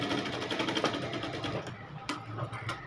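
Sewing machine stitching a folded sleeve cuff, a rapid even run of needle clatter, faint and close, slowing into a few separate clicks near the end.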